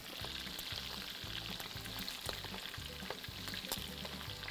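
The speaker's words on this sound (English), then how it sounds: "I'm gonna go ahead and start browning my Italian sausage." Italian sweet sausage browns in a pan with a steady, close sizzle and faint spatter, and a low repeating hum runs underneath; no one speaks.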